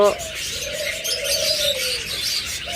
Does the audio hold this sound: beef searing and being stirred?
no